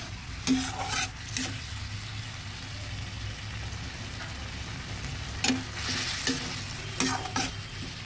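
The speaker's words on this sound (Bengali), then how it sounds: "ভালোভাবে সুন্দর করে ভেজে নেব" Mutton pieces frying in spices in a pan, a steady sizzle broken by bursts of scraping as they are stirred, close and fairly loud with no talking.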